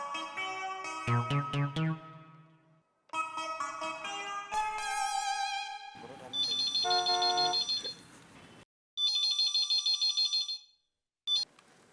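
A phone ringtone plays a sequence of electronic melodic tones and chirps, loud and close, cycling through patterns with brief gaps between.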